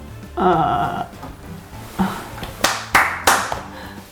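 Hand clapping up close in a watchmaker's and goldsmith's workshop, a few sharp separate claps at an uneven rhythm, the first ones mixed with a voice and the later ones standing alone as crisp bright slaps.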